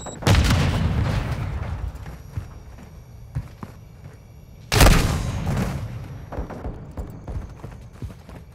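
Semtex grenade explosions in Call of Duty: Modern Warfare II: two loud, close blasts about four seconds apart, each with a heavy boom that decays into a long rumbling tail and scattered debris ticks.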